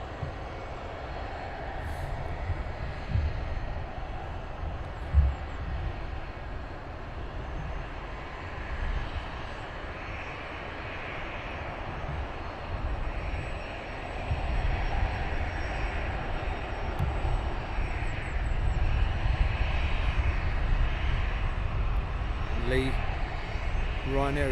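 A Ryanair airliner descends toward Luton Airport, its broad engine rumble and roar growing steadily louder over about twenty-five seconds amid outdoor wind noise, with no voices present.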